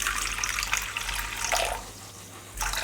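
Water poured into a batter bowl for a mixture that is kept at about 37 degrees, a steady splashing trickle lasting a few seconds, close and fairly quiet, with no voices.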